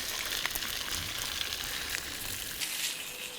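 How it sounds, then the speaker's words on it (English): Sausages fry over an open fire at a medieval reenactment camp, a steady close hiss and crackle of sizzling fat running throughout with scattered pops and no voices. "So I'll just put a few sausages on."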